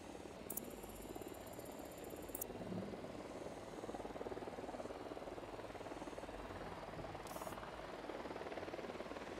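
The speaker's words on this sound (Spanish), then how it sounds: "Se acerca un helicóptero al suelo." A helicopter approaching in Ghost Recon Wildlands, a steady rotor drone with a faint whine, continuous throughout with occasional high electronic tones on top.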